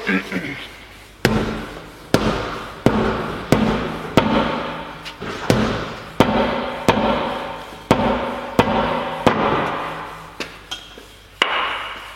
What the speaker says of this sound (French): tu prends un petit marteau.